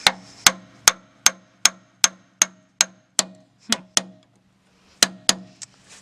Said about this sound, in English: I don't like tapping on that, but I don't know any other way to get that in there